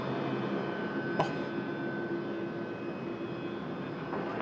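An old aircraft engine at Sydney Airport, a steady, fairly loud broadband roar that holds throughout, with a brief click near the start and no talking.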